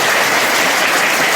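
Schoolchildren at a government school gathering clap harder and louder, a dense, steady wash of applause filling the space from start to finish.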